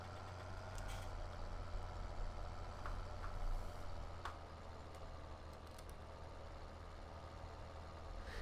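A tractor engine in Farming Simulator 17 labors up a steep slope while pulling a ripper, a low, steady drone that stays constant and moderately quiet, with a few faint clicks over it.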